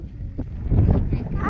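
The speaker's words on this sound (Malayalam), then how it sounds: "ഇവിടെ നല്ല കാറ്റൊക്കെ ഉണ്ട് കേട്ടോ." Strong gusts of wind buffet the microphone at a hilltop viewpoint in Nelliyampathy, giving a low, rumbling roar that swells midway, with a voice briefly heard.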